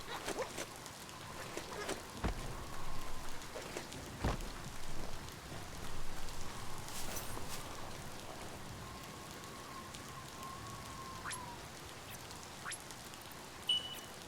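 Rain pattering steadily in the video game Biomutant, with scattered louder drops and occasional thin, quack-like calls over the wash, moderately close and without talking.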